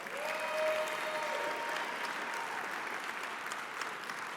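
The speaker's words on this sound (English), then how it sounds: "Let's give them another round of applause." Steady audience applause fills an awards-night hall honoring award recipients, a dense even wash of many hands clapping without a break, with a faint tonal whistle-like sound near the start.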